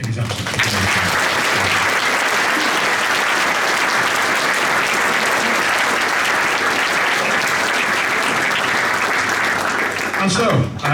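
An audience at a Sunday youth jazz orchestra concert in Wigan claps loudly and continuously, a dense wash of applause that holds steady for about ten seconds before tapering off at the end.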